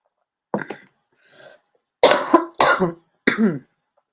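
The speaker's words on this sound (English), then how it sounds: "Sorry, guys, my coughing." Several close coughs, a short one first, then a soft breath, followed by three strong hacking coughs in quick succession.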